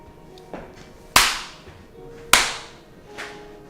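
Two sharp, loud smacks about a second apart, each ringing out briefly, with a couple of fainter taps between them, like hands clapping twice in a Minecraft game modded with HBM's Nuclear Tech.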